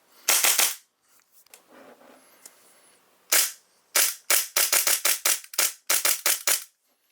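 A Hi-Capa airsoft pistol fitted with a tracer unit fires sharp, snappy cracks up close: a quick double shot, a pause with faint handling noise, then a single shot and a rapid run of about ten shots in fast rhythm.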